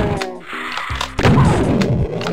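Gunfire in the Doom II video game, a few heavy booming shots and thumps packed into a couple of seconds over a dense game soundscape, no voices.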